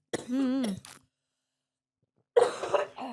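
A strained, groaning cough-like vocal sound rises and breaks off, followed by silence and then a second rough, raspy burst.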